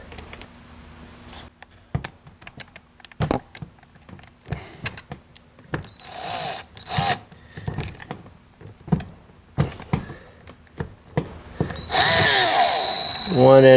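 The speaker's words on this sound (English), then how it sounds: "I'm just going to have to use my cordless drill attachment and take those screws out." A cordless drill backs screws out of the front passenger door of a 1999 Pontiac Grand Prix in short, sharp whirring bursts with clicks and knocks between them, ending in a longer sustained whine.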